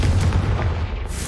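Confringo blasting spell from Hogwarts Legacy goes off as a loud, rumbling explosion, a single heavy boom that fills the short moment and then tails off.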